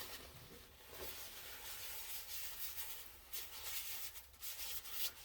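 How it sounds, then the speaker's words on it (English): Abrasive Yorkshire Grit paste rubbed onto a sealed wooden eyeball spinning on a woodturning lathe, a steady soft hissing rub with faint swells, continuous and close, no talking. "I'm going to give it a good coating in Yorkshire grit"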